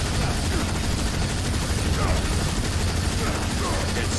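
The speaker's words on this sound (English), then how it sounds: "I'm taking heavy fire!" Heavy, sustained gunfire in the Unreal Tournament III video game, a dense unbroken barrage of overlapping shots that runs loud and continuous through the whole stretch.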